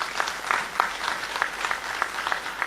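Steady applause from a crowd, many hands clapping together at moderate volume for the whole stretch.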